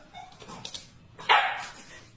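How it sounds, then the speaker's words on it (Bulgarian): A dog barks for food, giving a single sharp, close bark after some faint yips and snuffles. "Това е как да научат кучето да лая, когато иска храна."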